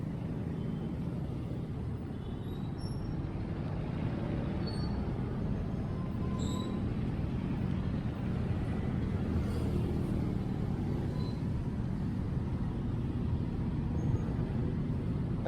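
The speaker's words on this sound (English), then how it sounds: "Traffic." Steady road traffic on a Batasan street, a continuous broad rumble of passing cars and engines with faint horns and chirps mixed in, moderately distant and unbroken.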